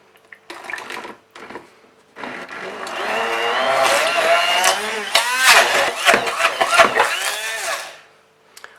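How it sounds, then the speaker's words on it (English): A stick blender whirs through thick gluten-free vegan cookie dough, starting in short bursts and then running in a longer loud stretch, its pitch wavering as it strains against the sticky mass. "I'm gonna just use my stick blender and blend this up."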